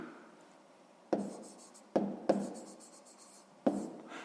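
A pen writes numbers by hand while working a sixth-grade maths exercise: quiet scratching broken by four sharp taps of the pen on paper, with no talk.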